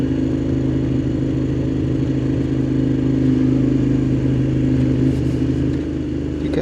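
A Moto Guzzi Griso motorcycle's engine runs loud and close, a deep steady throbbing hum with strong low tones, holding fairly constant revs with a slight rise in the middle.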